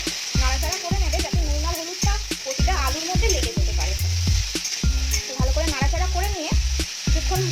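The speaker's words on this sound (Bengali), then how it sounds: "ভাজা হতে দেবে আলুটা তা ভাজা হোক" Potatoes with salt and turmeric fry in a pan, a constant hiss running under loud rhythmic background music.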